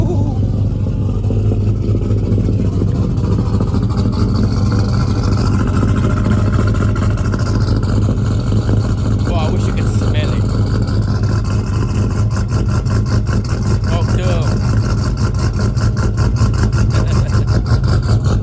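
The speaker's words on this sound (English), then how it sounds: "You want to hear a cold start?" A small truck engine idles steadily after a cold start at a dyno shop, a low, even rumble that holds constant throughout, with a voice talking over it now and then.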